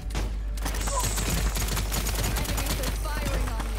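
Rapid enemy gunfire crackles in the shooter game Paladins, a dense continuous fusillade of sharp shots over a low hum, with a brief voice alert partway through.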